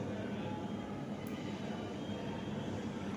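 A sewing machine stitches the side seam of a churidar in a continuous, fast, even rattling hum, faint and steady throughout the short stretch.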